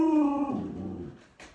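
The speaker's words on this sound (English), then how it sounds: "Oh, it's a dog." A dog gives a single drawn-out whimpering whine that slides downward in pitch and fades out, close by, followed by a brief soft rustle.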